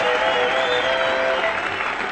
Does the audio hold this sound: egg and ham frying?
no